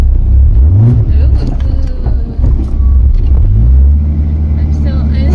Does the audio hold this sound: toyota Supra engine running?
yes